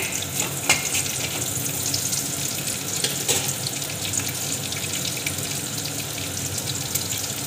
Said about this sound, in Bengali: জিরাটা একটা হালকা করে ভাজা হবে।